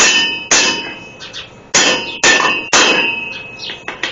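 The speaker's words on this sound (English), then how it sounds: "I get plenty of use out of my favorite tool, the brass hammer" A brass hammer strikes metal in a garage repair of a transmission: about six sharp, ringing clangs at uneven intervals, loud and close, each decaying briefly before the next blow.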